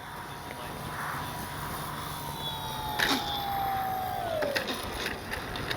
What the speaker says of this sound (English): the gyro makes this light little foam plane fly like a much larger plane